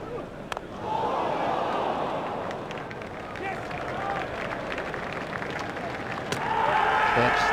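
Stadium crowd cheering and applauding in the Cricket 2002 video game during an India versus Australia one-day match, a steady loud roar of many voices that swells near the end, with commentary over it.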